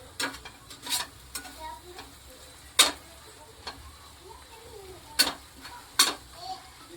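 Salt is stirred into a cooking vegetable mixture for methi bhaji in a pan, with sharp spoon clicks and scrapes against the pan at irregular intervals over a faint low sizzle.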